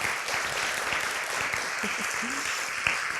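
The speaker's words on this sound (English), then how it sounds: "if we could just have a round of applause for Sodexo this morning" A breakfast audience gives a round of applause for the catering staff, a moderate, even rush of clapping in a large room with a faint voice murmuring underneath.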